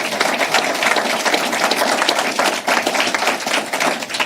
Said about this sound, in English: Another round of applause for our Congressman.